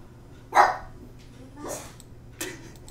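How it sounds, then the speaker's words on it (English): A dog woken indoors gives three separate barks spaced about a second apart. The first is loudest and the later ones are softer yips, close to the microphone. "I woke up the dog."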